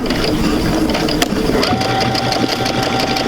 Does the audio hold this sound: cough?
no